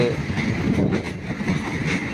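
A train rumbles steadily close by into Pakshi station, Bangladesh, after crossing a bridge, broadband rolling noise with faint rail clatter, the low roar of carriages pulling into a stop.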